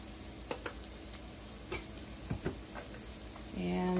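Seasoned food sizzling quietly in a pan before thin-sliced ribeye goes in for cheesesteaks, a soft steady fry with a few light clicks and taps, faint and close.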